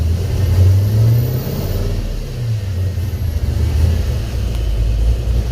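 A cammed 6.0 LS V8 fitted with Edelbrock Pro-Flo EFI idles close by, with a deep, lumpy, uneven rumble that swells and dips throughout.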